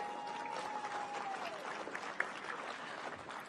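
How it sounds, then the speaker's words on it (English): An audience at a Breeders' Cup post position draw claps in a moderate, even patter that holds for a few seconds, with a faint tonal sweep early on. "Please, a round of applause for the big one"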